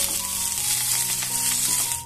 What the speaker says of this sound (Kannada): ಸ್ವಲ್ಪನೇ ಸ್ವಲ್ಪ ಕರಿಬೇವನ್ನ ಆಡ್ ಮಾಡ್ಕೊತಾ ಇದ್ದೀನಿ.